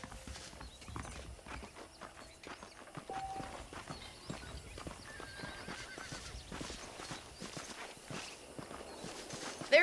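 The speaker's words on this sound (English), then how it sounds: "The horses are saddled up over here." Horses clip-clop steadily in the Red Dead Redemption video game, hoofbeats repeating at a walking pace with an occasional whinny, set against faint ambient game background.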